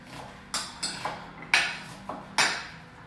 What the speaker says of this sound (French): tu vas prendre la cuillère que tu es allé chercher tout à l'heure, la cuillère, et tu mélanges, merci, et tu mélanges le tout